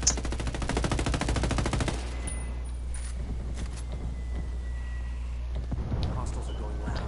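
Rapid automatic gunfire rattles in the video game Ghost Recon during a ranked 4v4 PvP match, a dense close burst for about two seconds followed by scattered quieter shots and clicks, with a voice speaking over it.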